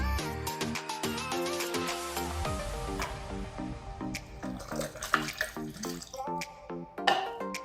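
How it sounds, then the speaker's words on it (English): A fruit drink pours and splashes steadily into a blender, a continuous bubbling gurgle with small drips and clinks near the end. "Next, I'm going to pour fruit shoot in the blender."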